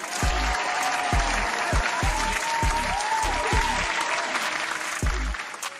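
Applause from a live music-review show audience runs throughout, a steady sheet of clapping layered over a pounding bass beat thumping at regular intervals.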